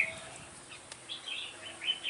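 A red-whiskered bulbul sings in short, bright chirping phrases that answer wild birds nearby, the calls coming in quick bursts over a quiet outdoor background.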